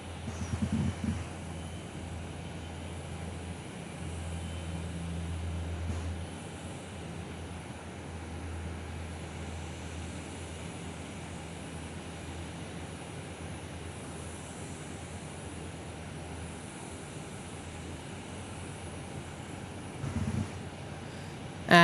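An Airbus A321neo airliner taxis at Perth airport toward its bay, heard as a faint, distant jet engine hum that stays low and steady throughout, with slight swells near the start and end.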